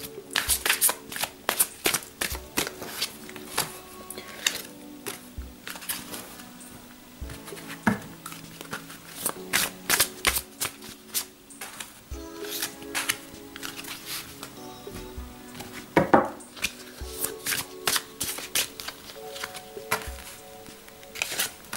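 Tarot cards shuffled by hand, close and crisp, with a steady run of riffling slaps and soft patters. No one speaks.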